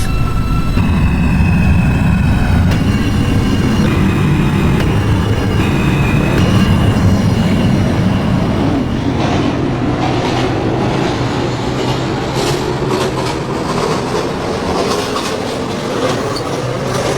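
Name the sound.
metro train running on the rails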